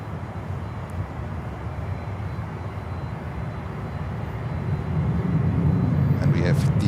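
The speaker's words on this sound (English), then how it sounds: "And we have DHL 767-300 coming over to us" DHL Boeing 767-300 cargo jet passing at Miami airport, a steady broad engine roar that builds slowly in loudness, heard from a distance with no clear talk over it.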